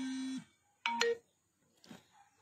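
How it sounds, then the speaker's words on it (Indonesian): A phone being dialed during a live-stream sales session: a few short electronic beeps and tones, brief and spaced apart, fairly quiet with silence between them. "Sebentar saya telepon nah."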